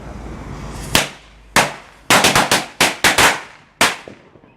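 Black Cat firecrackers pop in an irregular burst of loud, sharp cracks, a few spaced single bangs followed by a quick cluster and one last report, with no voices.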